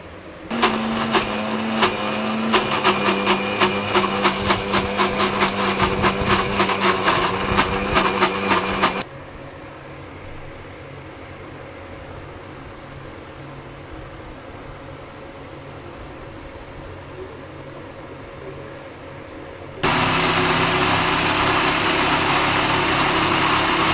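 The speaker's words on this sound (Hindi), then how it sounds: "ये सब चीज़ डाल के हम मिक्सी में अभी इसे घुमा लेंगे।" A mixer grinder blending coconut, mint, raw mango and garlic chutney whirs loudly and steadily for several seconds, stops for a long quiet stretch with low background hum, then roars back on.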